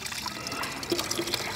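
Water poured through a mesh strainer from a small drum into a big drum makes a steady, close trickling and splashing stream throughout the short moment.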